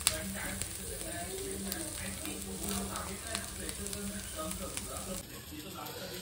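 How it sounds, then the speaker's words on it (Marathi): Chickpeas frying in a pan over a medium flame, a continuous close sizzle with light crackles and occasional stirring clicks, steady in level throughout, with a thin high tone running over it and no clear talk. "पाच सहा मिनटं मस्त फ्राय करणार, मस्त मेडियम फ्लेमवरती असे फ्राय करायचे हरभऱ्यांना"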